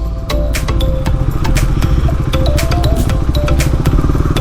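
A KTM Duke 390 BS6 motorcycle rumbles loudly and continuously while being ridden, its single-cylinder engine note close and steady with slight rises and clattering texture.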